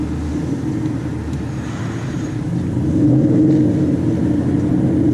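A 2013 Mustang GT 5.0 with a twin-disc clutch roars from inside the cabin, its engine note swelling louder midway as it accelerates through a gear change.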